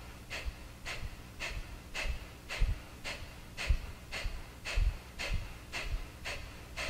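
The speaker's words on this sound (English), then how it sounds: "Belly pumps, navel moves in towards the spine. And we have rapid exhalations through the nose." Rapid forceful exhalations through the nose in a yoga breathing exercise, a steady train of about a dozen short, evenly spaced puffs, close and clear with no talk.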